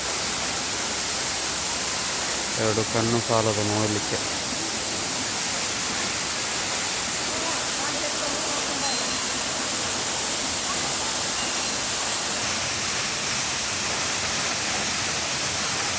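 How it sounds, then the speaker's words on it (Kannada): A waterfall pouring steadily into a pond, a constant broad roar of falling water; a person speaks briefly early on over the rush. "ಹೇಗೆ ಬೀಳ್ತಾ ಇದೆ ನೋಡಿ, ಎಷ್ಟು ಸುಂದರವಾಗಿ ನೀರು ಬೀಳ್ತಾ ಇದೆ."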